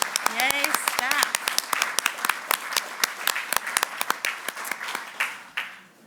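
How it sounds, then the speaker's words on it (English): A crowd at an annual meeting claps steadily in a dense burst of applause for staff, with a few cheering voices at the start, tapering off near the end. "Let's all stand and give them a round of applause."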